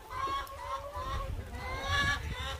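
Chickens cluck in the rain at an outdoor spot on Eua, Tonga, several short, pitched clucks repeating close by while people talk over them.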